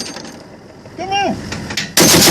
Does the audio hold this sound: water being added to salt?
no